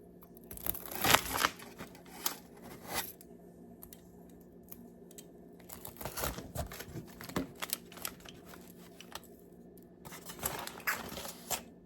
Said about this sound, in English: So I'm going to go ahead and cut into them.